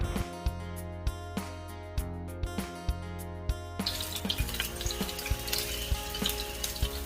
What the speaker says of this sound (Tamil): ஆயில் கொஞ்சம் ஹீட்டாகி கொண்டு வரப்போக்கல அதில் எடுத்து வச்சிருந்த சின்ன வெங்காயம் கொஞ்சத்தை போட்டுக்கொள்கிறேன்.